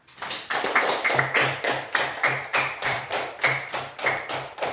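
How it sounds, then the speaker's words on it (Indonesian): A group in a classroom claps in a steady, rhythmic pattern of about a dozen evenly spaced sharp bursts, each ringing briefly, loud and close, with no talk over it. "Tepuk tangan."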